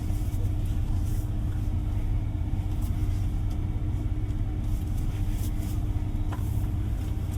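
Cabin rumble from a 2025 Ford Ranger Raptor with the 3.0 V6 driving over a cobbled road, a steady low drone and road noise with faint tyre patter.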